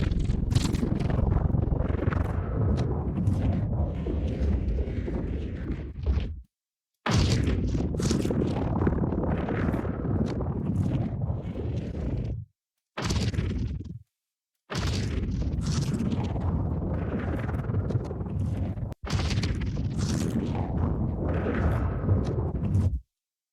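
Sci-fi explosion sound effects designed in Reaper, played back as several loud, dense bursts of rumbling, whooshing noise separated by short silences, with no talk.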